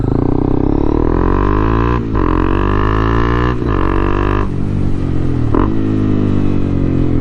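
A 2021 Honda CB300R with a Yoshimura exhaust idles loud and close, with a throaty, steady burble broken by several brief throttle dips and blips.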